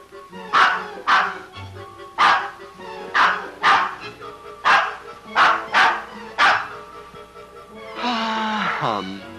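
A dog barks repeatedly and loudly, about eight sharp barks at an uneven pace, then a longer whining yelp at the end.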